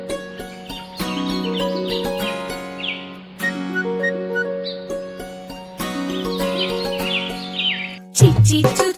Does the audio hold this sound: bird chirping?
yes